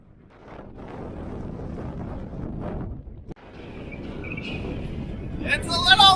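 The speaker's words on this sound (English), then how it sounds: "It's a little windy!" Wind on a mountain ridge during a Continental Divide Trail thru-hike, gusting and rumbling loudly against the microphone, building toward the end.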